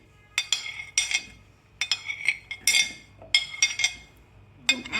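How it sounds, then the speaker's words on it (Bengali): Beetroot, mint leaves, carrot and ginger pieces drop one after another into a blender jar, each landing as a bright clink or clatter in a quick, irregular series of hits close by, with no talk. "আমরা একটা একটা করে ব্লেন্ডারে দিয়ে দিব ব্লেন্ড করার জন্য।"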